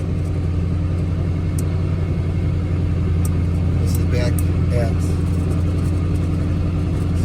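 A 1985 Jeep CJ7 engine works steadily as it climbs a sizable hill grade, a loud continuous low rumble throughout with someone talking over it.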